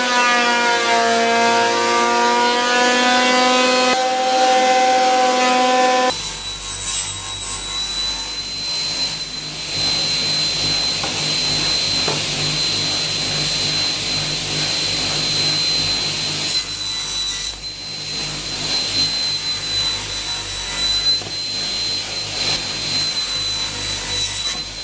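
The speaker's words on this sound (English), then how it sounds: "Now I just need to plane the leg cross members." Thickness planer feeding wooden leg cross members for a workbench, a loud continuous high-pitched machine whine with steady roar that runs nearly the whole time after a brief lead-in of tonal noise.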